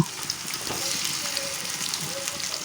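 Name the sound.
marinated fish frying in hot mustard oil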